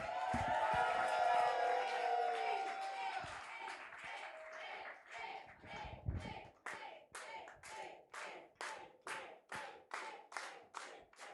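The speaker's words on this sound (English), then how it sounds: "give a big round of applause to President Abraham Lincoln" Audience applause greets a performer playing President Abraham Lincoln at a comedic historical roast, beginning as a dense crowd wash with some voices and thinning into a steady run of sharp, evenly spaced claps.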